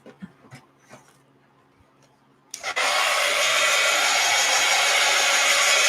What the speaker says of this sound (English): What happened to my heat gun?